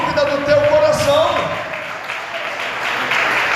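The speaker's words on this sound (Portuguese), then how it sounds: "Vamos aplaudir o Senhor." A church congregation claps during a sermon, steady dense applause filling the room, loud and close, with a preacher's voice over it.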